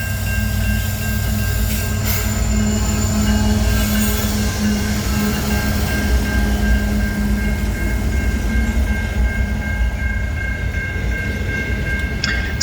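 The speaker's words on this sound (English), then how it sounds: "CN 3074 and ET 44AC and CN 2920 and ES 44AC serve as the power on this Q train" A CN intermodal Q train, led by ET44AC and ES44AC locomotives, rolls past loudly and steadily at Neenah, its wagons rumbling with metallic wheel squeal and a faint clickety-clack throughout.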